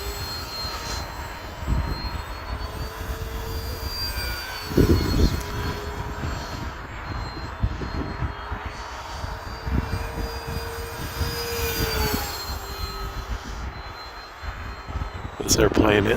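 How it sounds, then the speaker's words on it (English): An airplane engine in a flight simulator game, a continuous droning hum with shifting whining tones rising and falling as the plane maneuvers, with a person talking over it. "This airplane is a lot of fun to fly."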